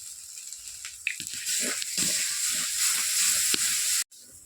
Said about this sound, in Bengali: এবার লবণ আর হলুদ দিয়ে ভেজে নেব।